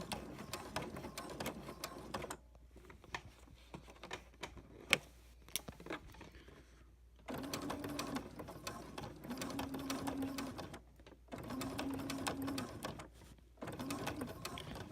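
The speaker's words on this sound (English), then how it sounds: "Just kind of keep sewing right next to that binding." A sewing machine stitches along quilt binding in bursts, with a steady mechanical whir broken by short pauses and quieter handling between runs, close by.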